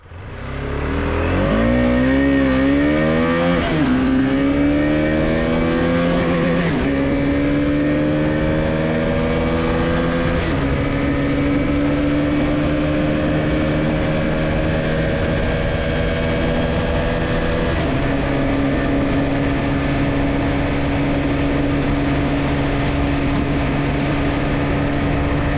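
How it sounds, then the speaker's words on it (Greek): A KTM 250 Adventure motorcycle engine revs up through several rising pulls and then settles into a steady, loud drone that runs continuously, close to the listener, with no talking. "Δεύτερη μοτοσυκλέτα. Το KTM το 250 το Adventure."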